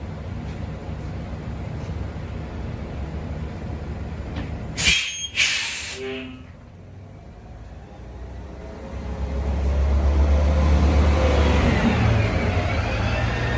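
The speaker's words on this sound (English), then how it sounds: "Let this bus pass." A bus passes along a street, its broad low rumble swelling from about nine seconds and holding loud to the end, after a couple of brief squeaky bursts midway.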